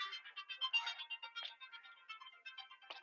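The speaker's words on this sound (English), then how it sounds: "I forgot to silence my phone" A phone ringtone goes off during a fitness class, a quiet, thin, chirping electronic melody of rapid repeated pulses running continuously and sounding small and somewhat distant, with no talking over it.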